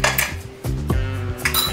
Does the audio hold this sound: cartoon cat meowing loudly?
no